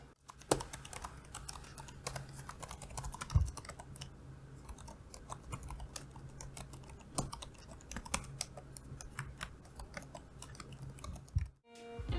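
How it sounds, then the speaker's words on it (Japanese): Someone types on the Japanese-layout keyboard of a 15-inch Dell laptop, a quiet, steady patter of close, soft key clicks with occasional heavier strokes and a brief pause near the end. "打鍵音としてはこんな感じです。"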